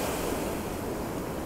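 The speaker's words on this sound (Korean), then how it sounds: "제가 바다를 되게 좋아하고 파도 소리를 되게 좋아해서" Ocean waves wash onto the shore in a steady, loud roar of surf, continuous and broadband with no breaks, recorded close up at a beach with no voices.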